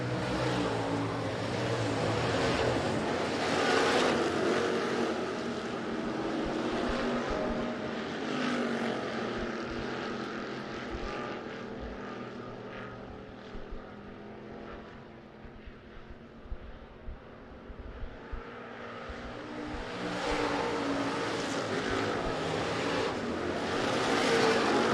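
Hobby stock race cars roar around the Rapid Speedway oval in a continuous, loud engine drone that swells, dips through a quieter stretch and rises again as the pack passes.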